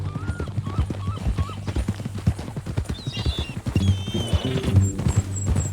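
Horse hooves clip-clop at an even walking rhythm in the Red Dead Redemption 2 video game, close and clear throughout. A couple of short whinnies and faint game ambience sit underneath, and brief talk comes in near the end.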